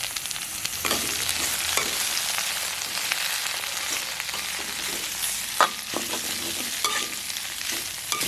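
Green chillies and curry leaves frying in hot oil over a high flame for a Jaffna spicy crab curry, a loud continuous crackling sizzle with periodic stirring clinks and scrapes, no talking.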